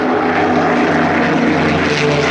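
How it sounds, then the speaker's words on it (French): A Dassault MD-311 Flamant twin-propeller aircraft flies at an air show at La Ferté-Alais, a loud, close, steady droning engine roar with a dense rumble that holds unbroken throughout. "Voilà le flamand qui est en quelque sorte l'ancêtre des Falcons."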